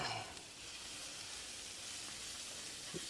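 Onions cooked down with a spoon and a half of flour sizzle steadily in a pan as they are stirred, a soft continuous hiss with faint scraping and no talk.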